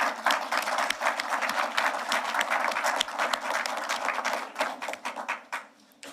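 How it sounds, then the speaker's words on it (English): Crowd applause at a Bermuda Fire and Rescue Services passing out parade, close, loud and brisk, with distinct individual claps in a dense patter that trails off into a few last claps. "Can you all give yourselves a round of applause?"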